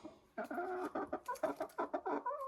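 Silver Adler hens cluck close by in a quick run of short, repeated clucks and murmurs, growing more rhythmic toward the end.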